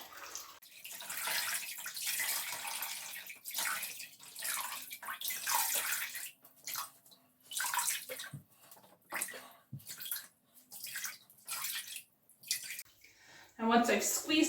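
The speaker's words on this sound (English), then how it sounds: "Now I'm going to squeeze out the excess water" Knitted brioche sweater squeezed gently in a bucket of water, giving uneven splashing, trickling and dripping in irregular bursts, close by, with quieter gaps near the end.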